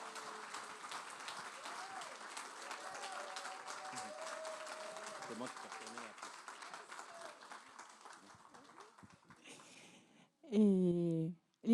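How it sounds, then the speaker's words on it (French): Applause from an audience at a parents' day celebration, a steady wash of clapping with voices mixed in, fading toward the end before a short burst of louder speech. "Est-ce qu'on peut l'applaudir?"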